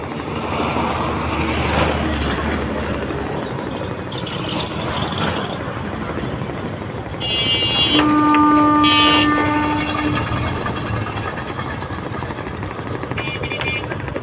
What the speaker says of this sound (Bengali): একে একে দুইটি লঞ্চ চলে যাচ্ছে